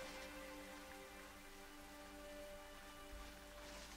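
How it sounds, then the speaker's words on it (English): Steady rain from the video game Rain, a dense even hiss of drops falling on surfaces, held constant throughout with no voices and a faint tonal hum running beneath. "A game called Rain has a lot of rain on it."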